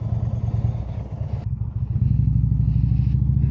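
An Indian Springfield motorcycle rides up a road with a steady, loud, throbbing engine note that briefly eases, then holds firm and close, with some clatter.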